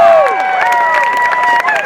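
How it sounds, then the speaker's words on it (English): A rally crowd at a No Kings rally in Montclair, New Jersey, cheers and applauds, with a bright, sustained mix of whoops and raised voices that stays loud throughout. "Yes, we give that a round of applause."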